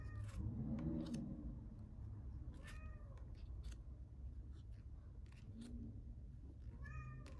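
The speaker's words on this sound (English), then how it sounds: "I'm gonna get rid of her meowing" Several cat meows sound at intervals, fairly close, over a steady low background rumble, with a cry near the start, another around three seconds and more toward the end.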